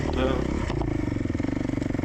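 A Honda trail bike with an air-cooled engine putters up close at low revs, its steady rapid pulsing mixed with clatter and overlaid by talking.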